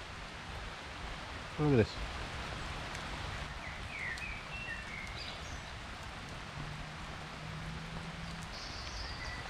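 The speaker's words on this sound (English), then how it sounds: "as you can probably hear, it's raining quite hard" Heavy rain falls steadily in woodland under a pine tree, a dense, even hiss of drops on leaves and needles that fills the whole stretch, with a brief spoken remark early on.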